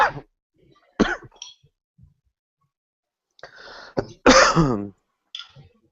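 A few sharp coughs and throat-clearing bursts, close up, separated by silences, ending with a heavier double cough.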